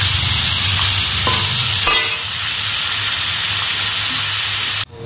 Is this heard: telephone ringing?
no